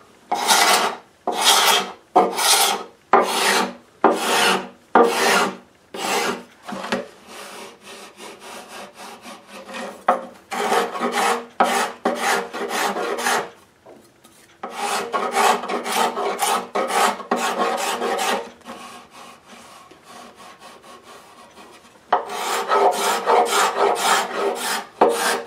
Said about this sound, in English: I'm taking out all the scratches from the rasp with a scraper.